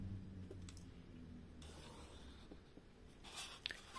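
A pencil eraser rubs off excess pencil lines on a paper Christmas pop-up card. The soft scratchy strokes are faint and close, with brief pauses and a slightly sharper scrub near the end.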